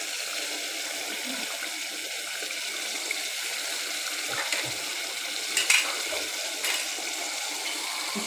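Chicken pieces fry in a pan for a sweet-and-sour dish, giving a steady soft sizzle with a few brief scraping stirs near the middle. Nobody speaks.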